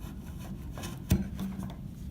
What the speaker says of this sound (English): I'm using my body to push down on the chisel and just go right across.